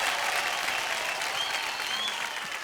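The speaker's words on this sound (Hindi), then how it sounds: "एक बार जोरदार तालियां हो जाए सनम और एबिगेल के लिए." A studio audience at a televised dance competition claps steadily for a pair of dancers, with the applause dense and continuous throughout and slowly tapering toward the end.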